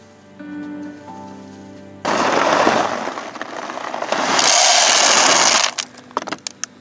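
A garden rake smooths a row of soil, giving a few loud, rough scraping strokes close at hand, with no voices.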